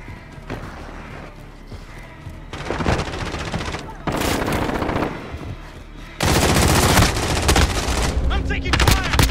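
Rapid bursts of automatic gunfire in a Call of Duty Modern Warfare team deathmatch, loud close machine-gun volleys with pauses between, growing heavier toward the end, with brief speech mixed in.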